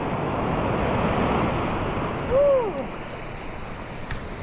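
Sea water surges into a beach gully, a steady broad wash of surf and rushing water with wind noise, fairly close and continuous, with a short tonal squeal partway through.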